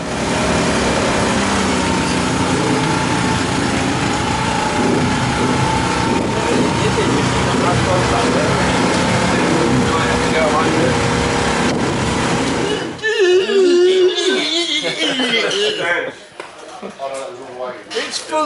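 A racing motorcycle engine at a Donington Park endurance and ICGP race weekend runs loudly and raggedly for about thirteen seconds, then cuts out, leaving close voices talking over quieter background noise.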